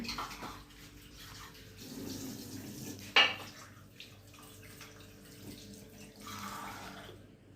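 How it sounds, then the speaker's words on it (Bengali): Tea cups washed under running water, a steady close splashing stream with one sharp clink of a cup partway through. "সে এখন কাপ ধুচ্ছে।"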